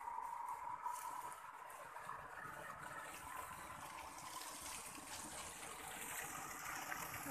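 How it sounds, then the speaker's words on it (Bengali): Water pouring from a pipe into a pond being dug makes a faint, continuous outdoor gushing rush, steady and somewhat distant. "এই যে পাইপ দিয়ে একদম জল যাচ্ছে, অনেকটা জল জমেছে।"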